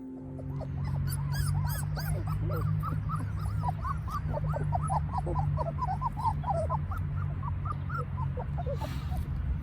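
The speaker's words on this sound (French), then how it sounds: "Voilà les chiots." A litter of nine puppies, nearly three weeks old, whimper and yip in a steady overlapping chorus close by, with a low continuous hum underneath and no talking.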